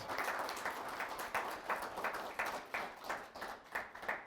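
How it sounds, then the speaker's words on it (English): A hotel meeting-room audience at a community empowerment meeting claps for the organizers, a sustained round of applause with a steady rhythm of individual claps, moderately loud and continuous throughout. "Let's give them another round of applause"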